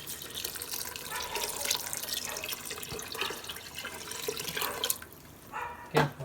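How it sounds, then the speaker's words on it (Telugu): Water, two liters in all, streams steadily into a container for homemade wine, a continuous splashing rush that thins toward the end before a final sharp splash. "2 liters నేను వాటర్ పోస్తున్నాను ఇందులో."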